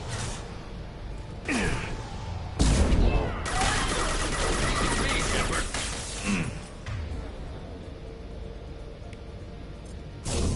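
Gunfire in the video game Mass Effect: bursts of rapid shots and whooshing blasts during combat, loud and dense at times, with a voice speaking underneath.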